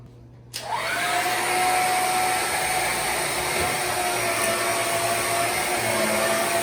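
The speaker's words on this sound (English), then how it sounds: "And then I'm gonna hit it with the vacuum." A household vacuum cleaner without a hose attachment switches on and runs with a loud, steady whine and roar, used to suck up debris while removing kitchen balusters.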